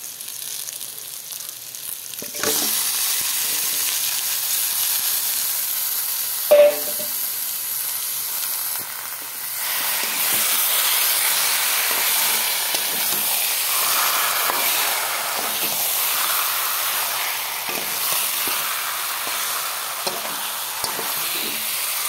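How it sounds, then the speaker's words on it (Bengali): Chicken poured into a hot pan sets off a steady, loud sizzle and hiss that swells after a splash-like start and keeps frying evenly, with a few faint clinks of stirring. "এখন চিকেনগুলোকে ঢেলে দেবো।"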